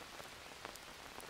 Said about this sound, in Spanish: ¿Crees que pare de llover ya paró? No.